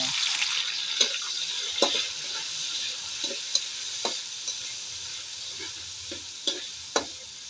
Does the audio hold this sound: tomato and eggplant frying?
yes